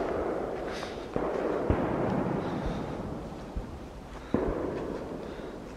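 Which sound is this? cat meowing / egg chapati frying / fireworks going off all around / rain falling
fireworks going off all around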